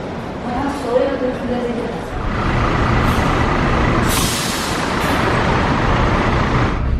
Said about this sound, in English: Damri is the airport bus for Jakarta